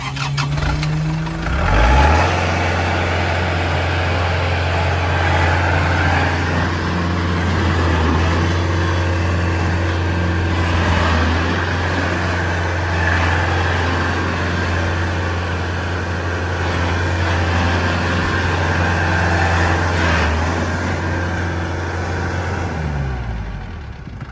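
A hydrostatic tractor's engine runs steadily close by as the machine changes direction, a constant low drone with a slight rise and shift in pitch early on and mild surging throughout.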